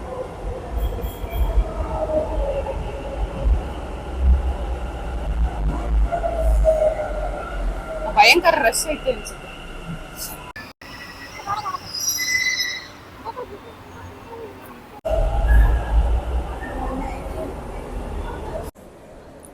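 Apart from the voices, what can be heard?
metro train ride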